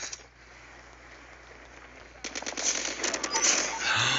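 Rapid bursts of automatic gunfire in Call of Duty Mobile, loud, dense rattling shots erupting after a quieter stretch of game ambience.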